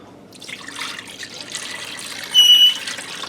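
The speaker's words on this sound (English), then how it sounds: "now I'm going to add in 4 cups of milk." Milk poured into a casserole sauce base, four cups added while making a macaroni ham casserole; a soft, steady liquid trickle and splash runs throughout, slightly louder near the end.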